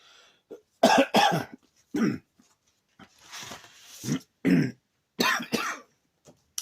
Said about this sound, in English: Excuse me if I keep coughing.